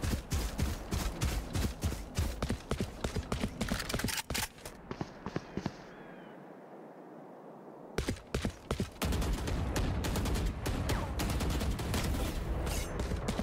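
Rapid bursts of gunfire from the video game Valorant in quick, repeated volleys, pausing briefly in the middle before the shooting resumes just as intensely.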